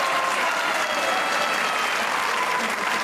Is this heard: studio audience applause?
yes